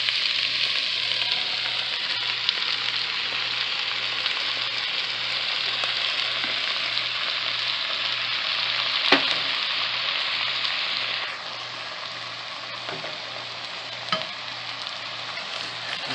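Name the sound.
stirring beef and potatoes frying in guajillo chile sauce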